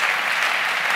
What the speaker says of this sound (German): nochmal einen lauten, deutlichen Applaus für die Diskutanten des heutigen Abends zu geben